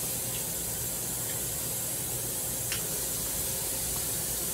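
Water running steadily into a cup while cooking greens, a constant soft hiss and trickle with a faint clink or two, close by and without talk.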